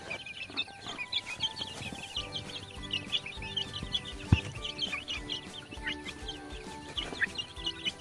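Young free-range village chickens, about four weeks old, clucking and chattering in a busy group nearby, overlapping calls with no talking.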